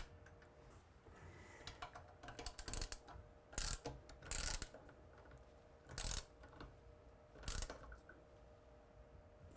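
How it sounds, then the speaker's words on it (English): Socket wrench with a 1/2 inch socket ratcheting bolts to mount a Hornady Lock-N-Load Iron reloading press, heard as several short bursts of metallic clicking spaced across the clip over a quiet background. "what we need here is a 1/2 inch socket and a 1/2 inch wrench, and we're going to just drop the press on here"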